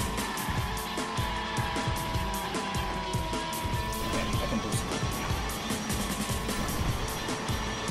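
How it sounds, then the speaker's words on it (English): A toy race car drifts in Hot Wheels Unleashed, its engine roaring continuously and loudly close up with tire squeal running underneath throughout. "Look at that drift!"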